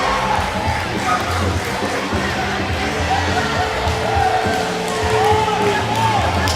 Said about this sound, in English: This crowd is excited.